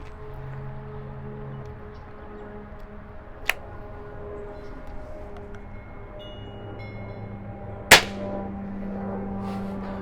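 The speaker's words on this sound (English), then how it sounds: "you can see how much louder this is when I shoot." One loud, sharp crack of an unsuppressed Crosman 2100 pump air rifle, pumped five times, rings out over a low hum, with a fainter click a few seconds earlier.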